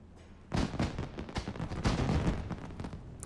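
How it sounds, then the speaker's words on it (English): Fireworks in an online game burst in a rapid irregular string of sharp cracks and thumps, starting abruptly after a brief quiet and continuing loud to the end. "Who's popping fireworks?"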